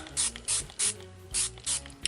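A hand-pump spray bottle spritzes ink potion number 9 over a stencil in six quick, evenly spaced bursts, each a close, hissing spray with a faint mechanical click from the trigger.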